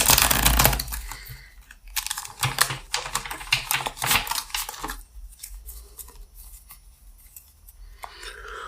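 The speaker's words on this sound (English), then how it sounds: "Let's do 3 shuffles." Rapid papery riffling and slapping of cards, in a few quick bursts over several seconds, close and crisp, with quieter handling between.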